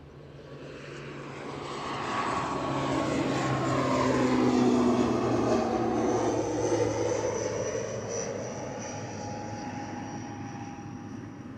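A Loganair turboprop takes off from Aberdeen bound for Kirkwall, its propeller engines swelling into a steady, moderately distant roar that peaks midway and slowly fades, with no voices.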